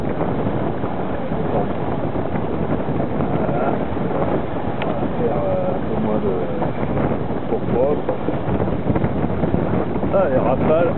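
Wind gusts buffet a sailboat heading back to port at Aix-les-Bains, a loud, steady rushing roar across the microphone, with people talking over it.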